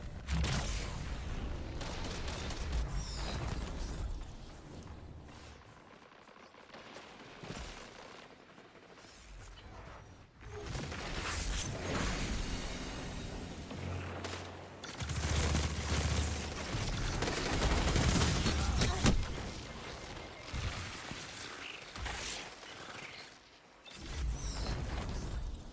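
Hand cannon gunfire in Destiny 2, a busy, fluctuating mix of repeated shots and effects over about twenty-five seconds, swelling and dipping in loudness without clear talk.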